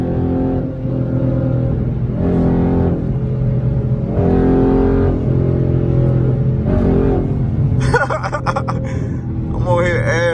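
A Dodge Charger SRT8 engine drones and revs steadily while the car accelerates through traffic in third gear, alongside a Pontiac G8. The engine note stays loud throughout, with a brief rattle near the end.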